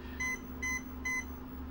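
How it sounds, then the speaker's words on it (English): Three short, evenly spaced high electronic beeps from the ESC of an RC Fokker Dr.I triplane model powered by a three-cell battery, clear and close over a low steady hum. "we have the beep, beep, beep for the ESC, three cell battery"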